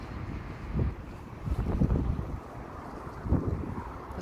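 Wind gusts buffet the microphone beside a roadway, mixing with a low roar of passing traffic that swells and fades several times.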